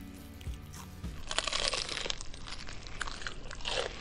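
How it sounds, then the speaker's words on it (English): A close, loud crunch as teeth bite into the crispy breaded skin of a KFC Original Recipe fried chicken breast, followed by a sustained crackly crumbling and chewing. "Let's see how that crunches."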